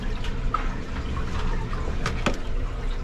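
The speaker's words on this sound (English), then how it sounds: "So, goes through a fill cycle, it has to fill up the tank first." Water steadily filling the tank of a Hoshizaki ice maker, a continuous close rush and trickle with a few louder drips and splashes throughout, no speech.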